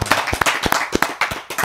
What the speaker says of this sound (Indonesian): Tepuk tangan buat Ustadz Nasir Abbas.